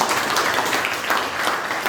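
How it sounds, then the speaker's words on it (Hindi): Children clapping loudly for their Hindi teacher Sunil sir at school, a steady, dense burst of applause filling the whole moment with no break. "तो एक बार सुनील सर के लिए जोरदार ताली बजाओ"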